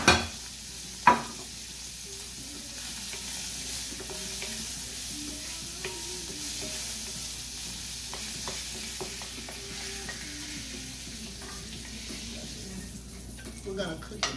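Skillet stir-frying for spicy Thai basil fried rice, a continuous close sizzle with the scrape and clatter of a utensil moving the food around, a couple of sharp knocks against the pan.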